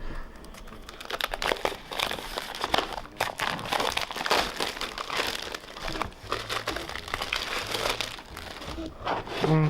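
Plastic and cardboard packaging of the Root board game by Leder Games crinkles and crackles continuously as it is opened by hand, close and fairly soft, in irregular bursts of rustling.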